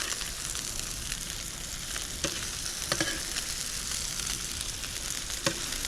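Fresh-caught fish fillets sizzle and fry steadily in a pan with tortillas warming around the edge, with a few clicks and scrapes as a spatula flips them; close and continuous, no talk.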